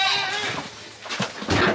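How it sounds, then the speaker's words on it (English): Mother goats and their kids bleat in a barn, several overlapping calls in quick succession, loud and close, some drawn out and wavering. "let the mamas and the kid goats out"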